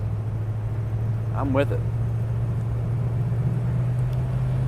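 A 1955 Dodge Royal Lancer with a V8 engine drives along with a steady low rumble and road noise, while someone speaks briefly inside the car.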